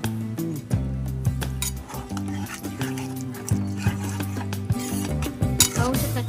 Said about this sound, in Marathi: कॉर्नफ्लोअर टाकल्यानंतर थोडं हलवत राहा